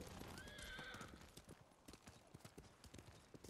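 Horse hooves clip-clop in a steady gallop through the Ghost of Tsushima video game, opening with a bright, drawn-out neigh up front before the rhythmic hoofbeats carry on alone.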